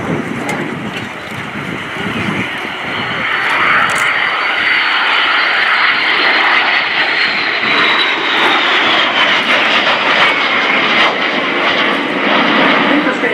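De Havilland Vampire twin-boom jet aircraft making a flypast at an airshow, a loud sustained engine roar and whine building over the first few seconds and holding steady as the jets pass, with faint voices beneath.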